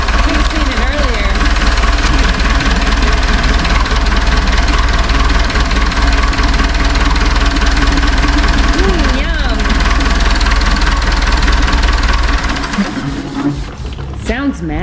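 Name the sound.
Cat forklift engine running, blowing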